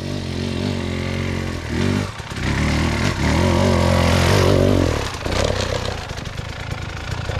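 An enduro motorcycle revs hard under throttle during a beginners' off-road riding lesson. The engine note is loud and close, swelling and dipping with the throttle and running continuously, with a brief easing around the middle.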